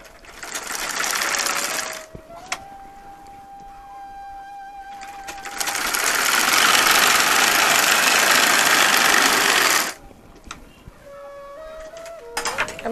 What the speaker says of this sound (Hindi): इसको यहाँ से इस तरीके से स्टिच कर लेते हैं